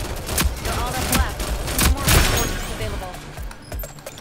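Rapid pistol gunfire in the online shooter Rogue Company, a loud cluster of sharp shots with echoing tails, followed by fainter scattered game sounds.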